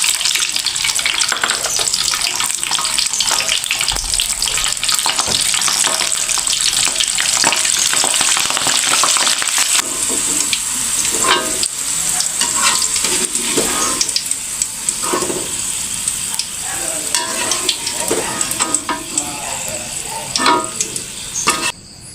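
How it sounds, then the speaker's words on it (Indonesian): Bird's eye chilies and garlic fry in a pan for green chili sambal, a steady close sizzle and crackle running throughout with occasional stirring clinks, no voices. "Goreng dulu cabai rawit sama bawang putih."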